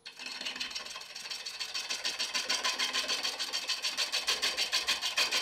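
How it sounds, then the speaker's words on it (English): A 5/8 inch bowl gouge cutting a yew bowl on a wood lathe turning slowly, a rhythmic scraping and rasping that pulses with each rotation, growing steadier and louder as the cut settles. "I'm just starting off with the 5/8" bowl gouge, just to try and make an area flat here"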